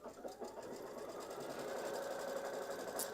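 An embroidery machine stitches a placement line on fabric, a steady quiet whirring hum with rapid rhythmic needle pulses continuing evenly throughout, no talking.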